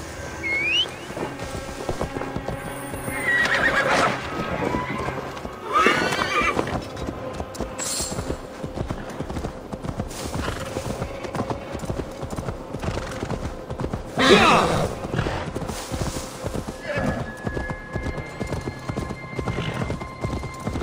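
Steady clip-clop of horse hooves walking in Assassin's Creed Valhalla, with occasional whinnies and scattered game voices and effects over a busy background.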